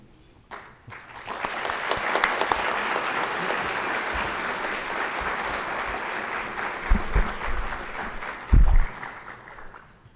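An awards-ceremony audience bursts into sustained applause that builds quickly, stays dense and even, then thins toward the end, with a few louder knocks and brief murmurs near the close.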